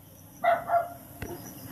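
A dog barks twice in quick succession at moderate distance, short sharp yaps standing out over a faint, steady outdoor background.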